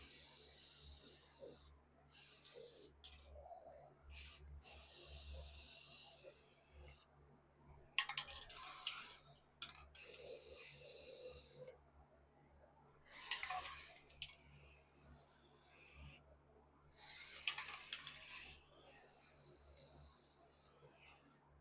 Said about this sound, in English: we're going to go ahead and spray the whole outside just so it's all one base color